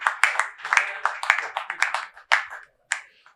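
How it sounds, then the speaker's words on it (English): Scattered hand claps from a conference audience welcoming retired Justice Abdul Aboki, a short uneven patter of applause that thins out and stops. "Let us give him a round of applause."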